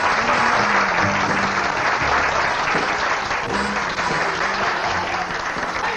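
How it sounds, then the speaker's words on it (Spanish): Audience applause from a 1958 film scene: loud, dense, steady clapping that fills the whole stretch without a break. "¡Un aplauso!"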